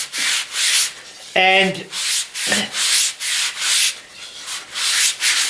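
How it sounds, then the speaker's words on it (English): A pine circle cut with a jigsaw is hand-sanded in quick, regular back-and-forth strokes, a rhythmic scratchy rasp close up, with a couple of brief vocal sounds between strokes. "I'm just giving it a quick sand"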